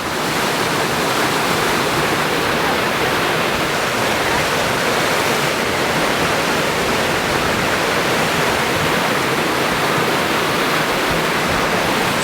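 Water roars steadily into a canal lock on the Kennet & Avon Canal through opened paddles, a loud, continuous broadband rush that stays constant throughout with no talk.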